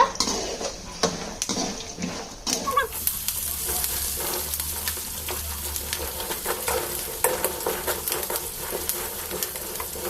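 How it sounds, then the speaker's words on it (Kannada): Peanuts roast in a pan while a utensil stirs them, giving a continuous sizzle and dry rattling, scraping strokes of metal against the pan, close and moderately loud, with no voices. "ಆಮೇಲೆ ಇನ್ನೂ ಒಂದು ಸ್ವಲ್ಪ ಶೇಂಗಾ ಹಾಕೋದು. ಅದು ಹುರಿ ಮಟ್ಟ ಚಂದ ಕೈ ಆಡಿಸ್ಬೇಕ."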